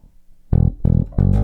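A bass guitar plays a short fill in three loud, punchy bursts: a note, a repeated note, then a final note, all close and clean with no talking.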